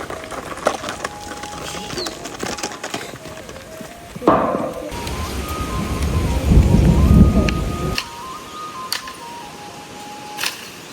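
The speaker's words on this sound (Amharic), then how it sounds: "ዝናቡ እያከፋ ነው።" A rural thunderstorm with heavy rain: a sudden crack of thunder rolls into a deep, rumbling boom lasting several seconds, over a steady patter of rain.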